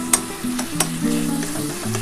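Parshe fish masala with tomato sautéing in a pan, a steady close sizzle broken by a few sharp scrapes and clinks of a spatula, with no voices.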